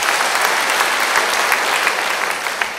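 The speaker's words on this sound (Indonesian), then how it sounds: "Percaya, beri tepuk tangan bagi dia." A church congregation applauds after a baptism testimony, a short, dense, even wash of clapping from many hands.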